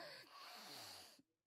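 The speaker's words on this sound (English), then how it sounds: "this just seemed to make her cough" A sick young woman, Miss Yu, in the Corpse Party horror game gives one harsh, wet, rasping cough. It is a loud, breathy burst lasting about a second, then cuts off to near silence.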